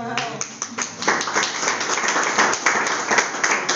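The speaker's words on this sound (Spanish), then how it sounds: "denle un aplauso a papito" Church congregation breaks into brisk, close applause, a dense wash of clapping that starts right after a voice and carries steadily for a few seconds.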